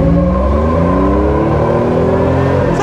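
A V8 car doing a burnout in an intersection, its engine roaring loud and close with rising revs and a sustained, rough growl the whole way through, no talk.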